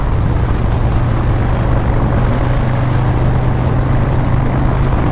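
A vehicle engine holding steady at about 3,200 RPM, heard from a helmet-mounted camera microphone as a loud, continuous droning hum with constant wind rush.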